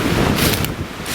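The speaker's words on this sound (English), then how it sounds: "tell you what, it's windy" Strong wind buffets a camp on a cold night, roaring steadily with loud gusts and rushing noise, close to the microphone and without talk.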